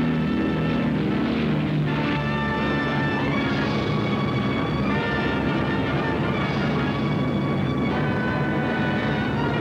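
A North American Aviation P-51 takes off with a continuous loud, droning propeller engine roar that holds steady throughout with faint tonal harmonics and no break.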